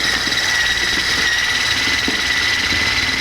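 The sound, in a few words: electric mixer whipping cream cheese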